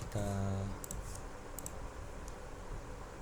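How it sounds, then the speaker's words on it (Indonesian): A computer keyboard is typed on as a few soft, sparse key clicks sound against a steady room hum, with a short tonal beep at the start. "kita pengen mengetikkan sesuatu, jadi kita ketik di keyboardnya"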